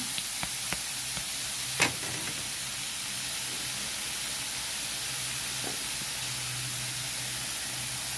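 Sponge gourd (patola) sautéing in a pan with pepper gives a steady, soft sizzle and hiss, with a few faint clicks of a utensil and one brief louder clatter early on.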